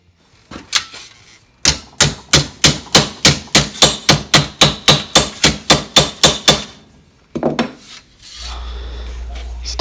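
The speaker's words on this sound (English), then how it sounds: "I'm going to do a little bit of hammer and dolly on it" Hammer and dolly work on a dented metal panel: about seventeen quick, evenly spaced metallic strokes in a steady rhythm, then a couple of looser knocks and a low hum.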